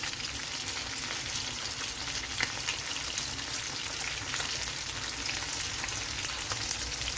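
Netholi anchovies fry crisp in hot oil in a pan, Kerala style, giving a steady, dense, close sizzle with faint crackles throughout and no talking.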